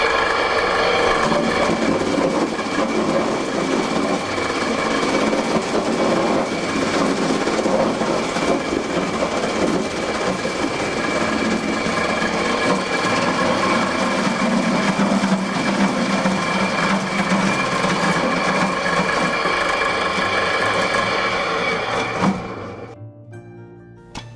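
An electric fruit mill grinding pears for must runs with a loud, steady mechanical roar and rattle for over twenty seconds, then winds down and stops abruptly near the end.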